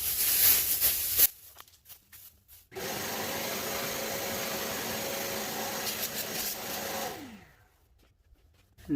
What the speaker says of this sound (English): if you use a HEPA filter vacuum, make sure you have a bag in there